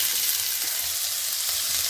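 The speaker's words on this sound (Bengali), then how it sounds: "আমি আগে প্রথমে গাজরটা দিয়ে দিচ্ছি। গাজরটা শক্ত একটু।" Carrots sizzle steadily in hot oil in a pan, a dense, even frying hiss that holds at a constant level throughout with no voices.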